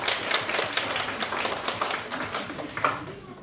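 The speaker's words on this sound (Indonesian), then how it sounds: "Tepuk tangan untuk Pak Maria Tias." An audience claps at a regional association meeting, sparse, fairly quiet rapid applause continuing for a few seconds without a break.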